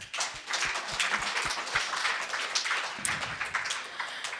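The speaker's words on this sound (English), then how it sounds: "Let's give him a round of applause." A worship congregation gives a student a round of applause, a lively burst of many hands clapping fairly close, with a few sharper individual claps standing out early and the sound holding steady throughout.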